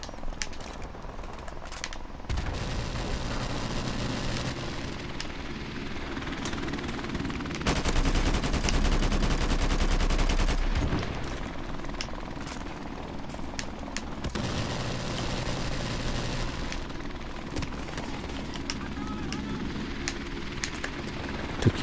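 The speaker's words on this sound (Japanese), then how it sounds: "ヘリコプター出ましたよ。" A helicopter in Call of Duty Modern Warfare Remastered on the Backlot map drones steadily through a team deathmatch, its rotor hum joined by bursts of gunfire and a louder stretch midway, with no speech.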